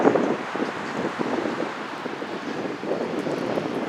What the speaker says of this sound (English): Oh, there's a jet.